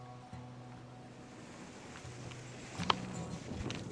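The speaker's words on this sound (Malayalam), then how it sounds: "ഈ ഉരുളൻ കല്ലുകളിലൊക്കെ ഇങ്ങനെ തിരമാല തട്ടുമ്പോൾ വേറെ തന്നെ ഒരു സൗണ്ടാണ്" Ocean waves wash over a pebble beach near Melbourne with a soft, steady rush of surf. A low droning hum runs beneath it, and one sharp click comes near the end.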